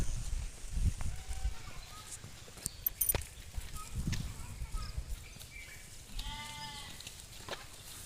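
Sheep kept under mosquito nets in an areca nut plantation bleat a few times, faint to moderate, amid quiet outdoor background with occasional knocks and bird calls.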